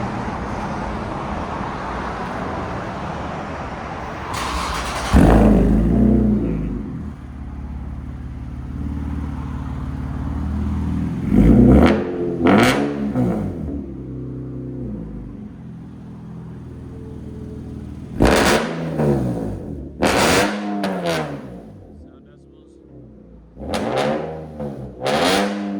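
A 2017 Nissan 370Z fitted with headers and a Motordyne cat-back exhaust idles with a low rumble, then is blipped in several sharp, loud revs that rise and fall back, close by with no talking.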